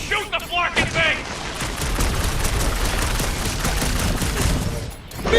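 Rapid gunfire rattles in the Guardians of the Galaxy video game, a dense, continuous stream of blaster shots lasting several seconds amid combat noise, with voices calling out at the start and end.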